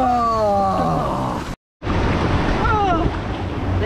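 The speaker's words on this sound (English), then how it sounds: "These are good rapids. These are really good rapids." Loud, rushing water surges around a river rapids ride at an amusement park, continuous and close with a brief dropout midway, while people's voices call out over the roar.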